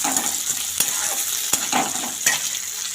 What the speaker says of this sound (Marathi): तर आपल्याला आता हरभरे घातलेली आहे त्यानंतर तीळ घालायचे त्यानंतर कच्चे शेंगदाणे घालायचे तर हे सर्व असं एकत्र मिक्स करून घ्यायचं आहे